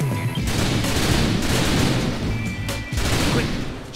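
Gunfire in the video game Typing of the Dead: Overkill, a dense, loud barrage of overlapping shots and booms running continuously, with brief dips between volleys.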